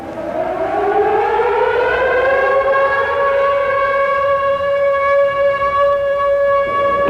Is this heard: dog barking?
no